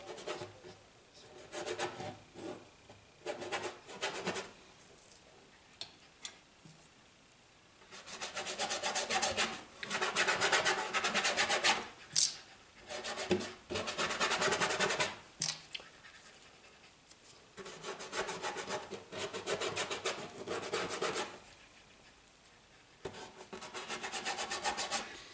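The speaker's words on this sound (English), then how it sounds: "Now you see why this thing is such a worn out brush, because I scrub with it so much." A worn paintbrush scrubs paint onto a landscape painting in bursts of dry, rasping strokes. Repeated rubbing passes come close and fairly quiet, separated by short pauses, with no voices.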